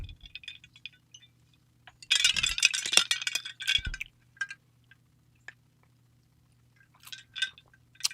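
Ice cubes clink and rattle into a drinking glass in a cluster of bright, close taps, with a few lighter clinks afterward over a quiet room hum.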